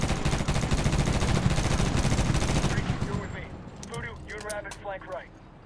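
Rapid machine-gun and rifle fire crackles loudly in Medal of Honor combat for a few seconds, then cuts off, leaving someone talking over quieter game sound.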